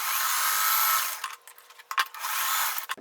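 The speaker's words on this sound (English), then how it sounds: "and I'm going to sew." A sewing machine stitches a selvage fabric strip onto a quilt crumb block, running in a steady high whir for about a second and then in short, stop-start bursts.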